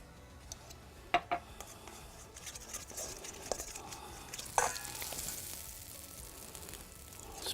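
Sausages brown inside a wood-fired oven with a soft, steady sizzle and crackle, quiet and a little distant, broken by occasional light ticks and pops.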